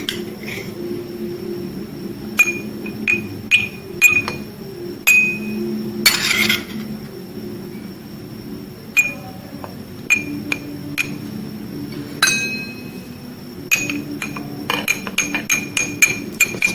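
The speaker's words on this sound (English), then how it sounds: "Stir it well." A spoon stirs wheat flour in a glass, giving repeated sharp clinks against the glass in uneven bursts, close and clear over a faint background hum.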